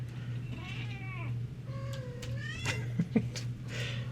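Kittens play fighting, giving a run of thin, rising and falling mews and squeaky cries over several seconds, set against a steady low hum.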